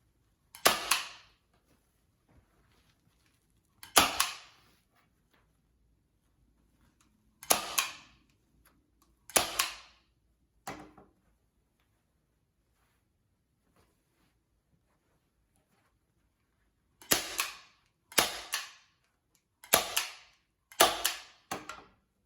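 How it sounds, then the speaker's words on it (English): Staple gun firing into fabric while building a mushroom pouf, about ten sharp snapping clacks, some spaced a few seconds apart and others in quick runs, close and clear against near silence. "Just keep pulling it and stapling."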